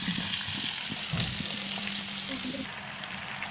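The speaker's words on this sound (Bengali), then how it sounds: "দেখেন ঘি উঠতে শুরু করেছে" Butter simmers in a pan as it turns into ghee, producing a continuous close bubbling fry hiss with small pops and a soft stirring scrape, with no voice over it.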